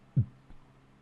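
A heartbeat sound effect from a Dungeons and Dragons session: one deep, soft thump followed moments later by a fainter second beat, quiet and alone over a low steady hum.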